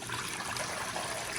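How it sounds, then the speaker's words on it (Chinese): Clean water poured into a cooking pot, a short, steady, close rush of flowing liquid with no talk over it. "锅里倒适量的清水"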